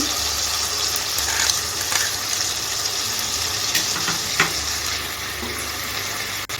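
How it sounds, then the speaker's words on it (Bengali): Chilli paneer sauce with red and green chillies, tomato sauce and dark soy sauce is stirred in a hot pan, giving a steady sizzle with scraping and clinks of the spatula throughout. "এখন এটাকে আমি দেড় থেকে দু মিনিট সতে করে নেবো"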